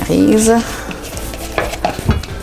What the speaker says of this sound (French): Et on mélange pour faire notre mélange à muffins